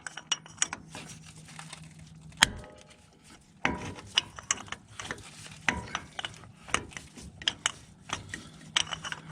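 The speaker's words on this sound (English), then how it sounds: "we're going to take a 19mm deep well socket on our ratchet" A ratchet fitted with a 19mm deep well socket, a pipe slipped over it for leverage, works loose a strut bolt on a 2003 Tacoma 4x2, giving repeated close clicks and metallic clanks with sharp bursts between quieter stretches.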